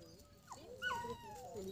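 A soft-coated dog whimpering close by, a few thin rising and falling whines in quick succession, fairly faint.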